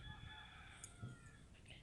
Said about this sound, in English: the minute I pull up my cards, they start making a ruckus